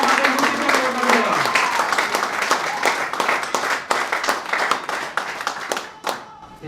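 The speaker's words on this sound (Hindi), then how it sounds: "जोरदार ताली हो जाए" An audience at a hotel event bursts into loud, sustained applause, dense clapping for several seconds with a few voices mixed in, thinning out near the end.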